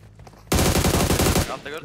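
A loud, close burst of automatic gunfire in PUBG Mobile, rapid shots in a tight rhythm lasting about a second, with faint background noise before and after.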